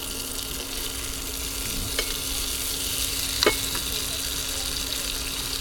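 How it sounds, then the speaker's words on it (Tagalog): Rice being stir-fried into garlic fried rice at a van-life campsite, a steady continuous sizzle and frying hiss with occasional scrape or clink of the spatula, no talking. "tapos sasangag natin yung kanin natin"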